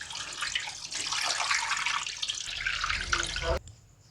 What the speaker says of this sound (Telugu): చింతపండు రసం అనేది పోసుకుందాం